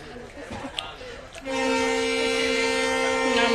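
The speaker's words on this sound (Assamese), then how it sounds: "আমাৰ ট্ৰেইন ষ্টাৰ্ট দিব এতিয়া।" Train starting to move, with a steady, sustained horn tone cutting in halfway through and holding to the end, preceded by murmuring voices and clatter on the platform.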